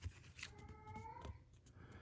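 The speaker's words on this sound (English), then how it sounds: "Excuse my cat in the background." A house cat meows somewhere in the background indoors, one drawn-out, wavering meow in the middle, fairly faint and with no talk over it.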